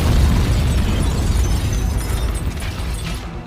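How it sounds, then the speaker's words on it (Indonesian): A car blowing up in the 2011 film The Mechanic, a loud, deep booming roar that hits at once and rumbles on, slowly fading over a few seconds. "mobil yang dikendarai Steve meledak dan disusul rumah Bishop yang terbakar"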